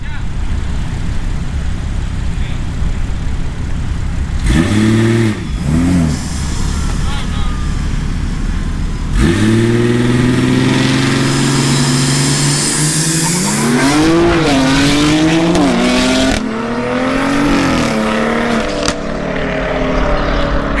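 Turbocharged BMW 340i with a big turbo and a fully built Toyota Supra launching in a race, engines spooling and rising in loud, sweeping pitch with gear changes and roaring acceleration, wind and cabin noise underneath, with people talking.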